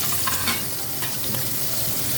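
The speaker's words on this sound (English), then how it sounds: "This is how the frying will be." Steady sizzling of food frying in a pan, a continuous crackling hiss with small pops, close and fairly loud, no voices.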